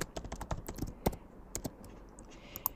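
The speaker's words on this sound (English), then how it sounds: "I'm going to click on T on my keyboard to activate the text box" Keys pressed on a computer keyboard while working in Figma design software: a run of sharp, close, irregular clicks with a few louder taps and no talking.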